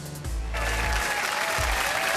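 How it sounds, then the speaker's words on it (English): A packed arena crowd at a Gran Turismo World Tour Nations Cup final in Sydney roars and applauds steadily, loud and sustained, with deep rumbling bursts underneath. "can you hear the crowd on their feet?"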